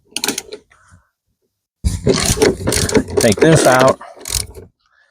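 A 3/8 drive ratchet loosening a T50 Torx bolt on a 2014 Chrysler Town & Country power seat, loud close clicking and grinding in two bursts, with someone speaking briefly at the start.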